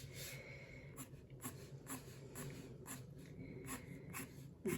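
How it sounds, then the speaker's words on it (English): A pencil sketches lines on paper while drawing a bird, with soft, steady scratchy strokes repeating at an even rhythm, close and quiet. "we're going to create a couple of pencil lines that give us the shape for the comb of the feathers"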